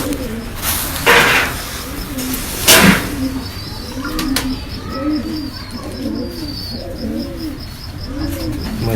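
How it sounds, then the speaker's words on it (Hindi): Ferozpuri breed pigeons, including a female, give repeated soft, rolling coos in a steady rhythm at close range, with a few brief rustles and faint background noise. "ये आपको फिर से वही कबूतर दिखा रहे हैं जी, फिरोजपुरी को मादा दिखा रहे हैं"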